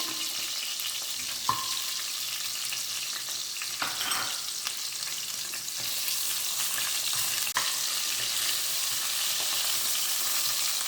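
Mutton keema bones fry in oil in a pan, giving a steady, fairly quiet sizzle with a few soft stirring scrapes and knocks.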